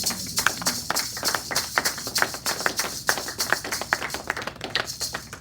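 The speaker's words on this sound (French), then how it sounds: "Nous acclamons très fort." A church congregation applauds, steady rapid claps rising and falling together in a full, close, continuous burst with no talking.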